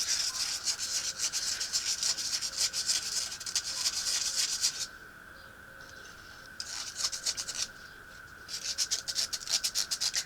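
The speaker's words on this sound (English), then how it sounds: "Woman sands limbs." Wooden limbs of an ILF shot trainer are sanded by hand, a close rhythmic scratchy rubbing that runs steadily, pauses briefly, then resumes.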